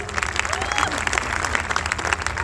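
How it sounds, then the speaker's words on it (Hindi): A dense, continuous burst of audience applause fills a hall as a crowd claps for their guru, the sound loud and unbroken throughout. "मैं चाहता हूँ एक जोरदार तालियां गुरुदेव के लिए हो जाए"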